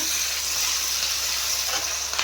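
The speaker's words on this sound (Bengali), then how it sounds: "এটা ভাজা ভাজা হয়ে গিয়েছে হালকা।" Food fries in a pan with a steady, dense sizzle that stays constant throughout and is heard close up, with no talking.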